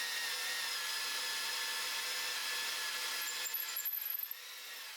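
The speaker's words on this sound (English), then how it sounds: "it's actually pretty easy to drill with a masonry bit and just a drill" Steady, high-pitched grinding of a masonry bit boring into sandstone rock, continuous for several seconds, then briefly faltering and easing off near the end.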